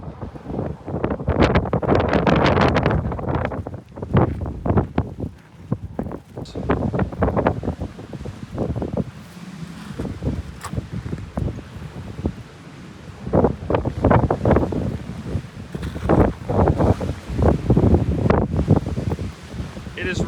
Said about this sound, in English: It is ridiculously windy out here.